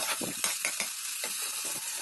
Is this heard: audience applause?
no